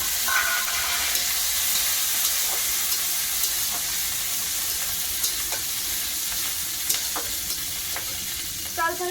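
Green chillies sizzle in hot oil, a loud, continuous crackling hiss close by with scattered pops and a brief clink of a utensil at the end.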